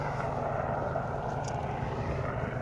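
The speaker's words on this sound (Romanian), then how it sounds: "Asta este elicopterul ambulanței" An ambulance helicopter passes overhead near a river mouth where it meets the ocean, a steady droning rotor and engine rumble that stays loud and even with no speech.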